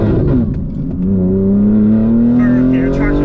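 BMW G80 M3, rear-wheel drive with about 820 bhp and traction control off, accelerating hard in third gear, a loud rising engine drone heard from inside the car as the revs climb steadily.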